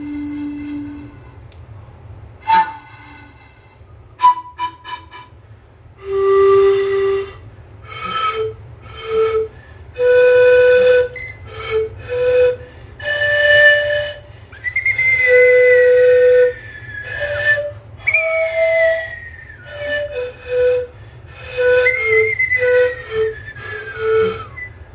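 Breathy Peruvian bamboo flute notes rise and fall in a slow melody, some held and gliding, others short and clipped, played close and loud with no talking.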